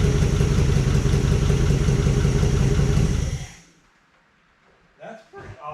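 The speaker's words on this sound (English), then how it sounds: "This thing's got quite the exhaust leak." A 1955 DeSoto Firedome engine with a bad exhaust leak and a misfiring cylinder runs loud and close with a rough, clattering idle for about three seconds, then cuts off, leaving a near-silent pause and then brief bumps.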